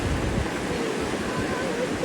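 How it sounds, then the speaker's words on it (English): A waterfall heard as a continuous broadband rush of falling water, steady and fairly close, with no pauses. "let's go look at the waterfall"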